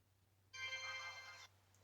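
A phone notification ripped from the 2012 Black Rock Shooter anime: one bright, bell-like electronic chime lasting about a second, alone over a faint low hum.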